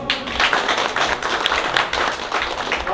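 Applause from an audience at an art exhibition award ceremony, a crowd of steady, fairly dense clapping with a few sharper individual claps, sustained and close throughout.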